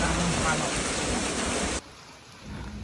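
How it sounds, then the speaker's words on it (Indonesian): Heavy rain pours steadily on a hiking trail on Mount Kerinci in Sumatra, a dense close hiss that suddenly drops to a softer, quieter patter partway through. "tidak lama kemudian hujan pun turun"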